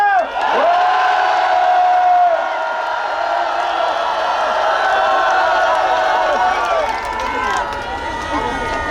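A rally crowd at an outdoor tent protest in Seoul's Gwanghwamun erupts in a loud, sustained roar of cheering and shouting, dense and continuous throughout with whoops riding on top.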